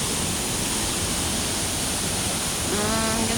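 Katibawasan Falls in Camiguin pours with a steady, loud broadband roar of falling water that stays constant throughout, with a faint tone rising over it near the end.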